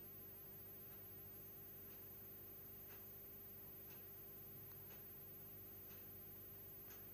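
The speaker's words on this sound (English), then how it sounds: "That's just my clock ticking." A clock ticks steadily about once per second, faint sharp clicks over a constant electrical hum and hiss from a 160 watt self-ballasted mercury vapor floodlight bulb running nearby.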